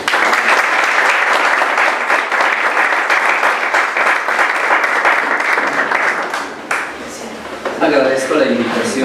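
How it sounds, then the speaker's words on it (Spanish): A parish assembly audience gives the priest loud, sustained applause, dense clapping that fades out near the end as a voice begins speaking. "Le damos un aplauso."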